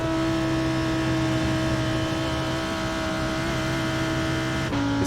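A BMW GT race car in the iRacing sim at Spa holds a loud, steady engine drone under acceleration on the straight. The tone barely shifts until a quick change near the end.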